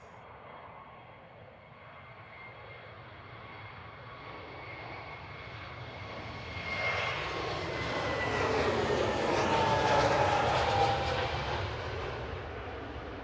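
An Airbus A321neo jet departing Manchester Airport for Athens builds from a distant rumble into a louder roar with a whining engine tone that peaks and then eases, with no voices.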